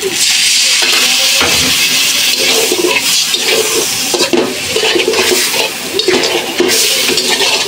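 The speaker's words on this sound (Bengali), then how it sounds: "একটু জল দিয়ে দিলাম।" Water poured into a hot cooking pan of pangas fish head: a loud, continuous rushing hiss and bubbling sizzle that fills the whole stretch, with faint clinks of the pan and no voices.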